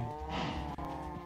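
Cows in the Minecraft Sky Factory 4 modpack give a low, steady, drawn-out moo, sustained and moderately loud, with a brief dip partway through.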